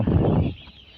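Three-day-old broiler chicks in a poultry shed warmed by bulbs make a brief burst of close, busy chirping and clucking that quickly fades into quiet.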